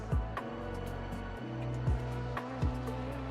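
A slower-class car in the iRacing simulator at the Daytona 24 Hours, heard from an LMP2 prototype: engine notes rise and drop sharply through several quick gear shifts as the faster car closes and passes, with no talk.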